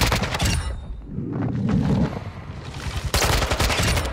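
Rapid bursts of automatic gunfire from a new gun in a video game, loud and dense at the start, a sputtering middle stretch, then a renewed sustained volley near the end.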